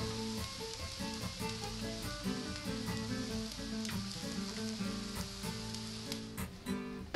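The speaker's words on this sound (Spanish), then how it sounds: "vamos a ir cocinando esto 15 o 20 minutos más o menos hasta que la cebolla se ponga bien transparente y revolviendo para que no se queme" Onion sizzles on a disc for osobuco with a steady, fairly quiet frying hiss, broken by intermittent scraping clicks of stirring, over soft background music.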